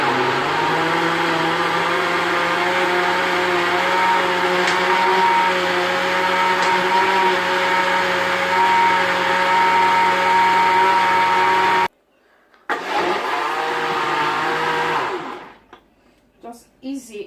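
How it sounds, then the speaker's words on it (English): A blender whirs steadily and loudly for about twelve seconds as it purees a strawberry banana smoothie with ice cream, then stops abruptly, briefly restarts, and winds down to near quiet. "Cover and blend."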